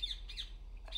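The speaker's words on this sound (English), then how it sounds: "What the hell's up with that bird?" A bird in the video game Republique gives loud, harsh squawks, three bursts over one second against a low steady hum, with no talk.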